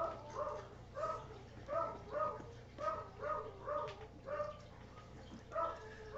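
A dog barks repeatedly in a steady rhythm of short woofs, somewhat distant and muffled indoors, over a constant low hum.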